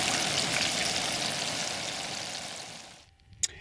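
Dense, loud sizzling of onion rings frying in hot oil, steady and close, then cutting off abruptly near the end with a single sharp clink.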